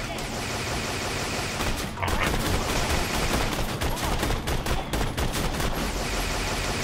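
Rooftop turret firing in Borderlands 2, rapid rattling bursts of shots repeating through the whole stretch over dense, busy combat noise.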